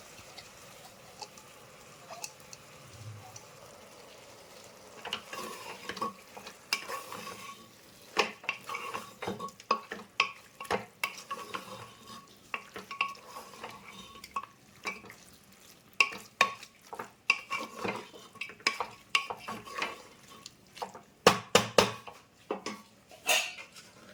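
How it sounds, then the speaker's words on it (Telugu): A spoon stirs blended masala paste into Andhra-style gongura mutton in a pan, with irregular scraping and clattering strokes that grow busier and louder toward the end over a low background. "ఇప్పుడు ఇందాక మనం బ్లెండ్ చేసుకున్న మసాలా పేస్ట్ని వేసుకొని కలుపుకుందాం."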